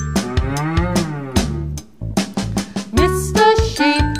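A voice imitating a cow's moo in a toddlers' song, with a run of drawn-out, loud, close moos alone, no other talk.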